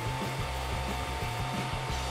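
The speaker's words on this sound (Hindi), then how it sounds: "हेयर ड्रायर से शुरू करती हूँ।" A handheld hair dryer blows on hair, a loud steady whirring hum with a pulsing motor tone close up, running continuously without any voices.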